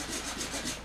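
Faint, steady back-and-forth strokes of a hand saw cutting branches off a broken tree, a soft rhythmic rasping of blade on wood.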